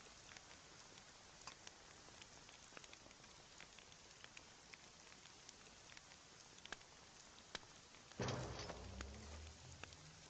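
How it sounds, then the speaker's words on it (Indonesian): Steady artificial rain patters on a surface, a soft continuous wash of drops, then a louder, closer burst of rain or splashing takes over near the end. Nobody speaks. "Hujan buatan sangat tepat waktu."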